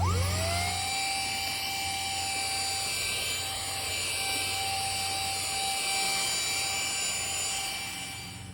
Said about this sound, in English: I'm just going to do a little quick vacuum of this car seat